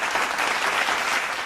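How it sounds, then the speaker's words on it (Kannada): Studio audience applauding a singer on a Kannada singing reality show, a steady dense wash of clapping that holds at an even, fairly loud level throughout with no voices over it. "ಆಮೇಲೆ ನಿಮಗೆ ನಾನು ನಿಜವಾಗ್ಲೂ ದೊಡ್ಡ ಚಪ್ಪಾಳೆ ಕೊಡಬೇಕು"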